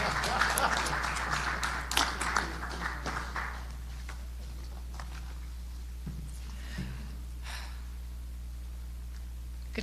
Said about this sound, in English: and yes, you may applaud.